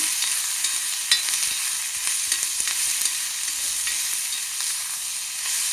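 Onions frying with salt in a cast iron kadai give a continuous bright, hissing sizzle with occasional light stirring taps, steady and close, with no talk.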